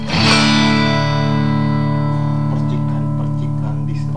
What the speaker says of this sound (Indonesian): percikan distorsi drive nya masih berasa